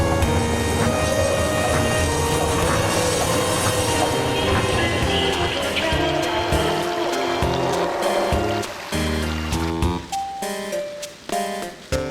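A train ride in Final Fantasy VIII with loud rolling rumble and squealing wheels, layered with tonal background music. It thins toward the end into separate bursts and clanks.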